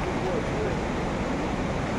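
A river flows in front of large mountains near the Thingpo hot springs in the Mon region, giving a steady, dense rushing wash of water that stays constant throughout with no voices.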